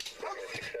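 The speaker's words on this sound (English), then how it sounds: "I still hear him barking, so it's a good sign." A dog inside a car barks and yips in short, excited bursts, fairly close, with a few faint whimpers between them.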